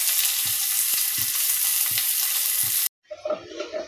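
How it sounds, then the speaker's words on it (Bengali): Dried red chilli, nigella seeds and chopped garlic fry in hot oil with a loud continuous sizzle, soft rhythmic stirring knocks every half second, then a sudden cut to a quieter, patchier sizzle near the end. "একটা শুকনো লঙ্কা দিলাম, অল্প কালো জিরে দিচ্ছি, একটু রসুন কুচি দিচ্ছি।"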